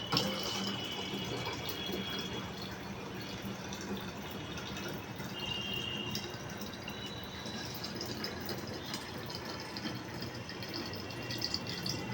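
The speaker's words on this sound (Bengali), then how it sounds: "এবার জলগুলো ভরে নেব, জল ভরলে হয়ে যাবে" Tap water runs into a bucket with a faint, steady trickling and splashing that holds evenly throughout, quiet and slightly distant, with no voices.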